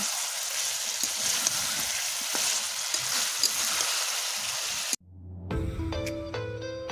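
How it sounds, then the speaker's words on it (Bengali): Village-style country chicken curry sizzles steadily in oil under a lid for about five seconds, a close, dense frying hiss, before cutting abruptly to music. "আমি এরকম ঢাকনা দিয়ে এরকম হালকা হালকা করে কষে কষিয়ে আমি রান্নাটা করব।"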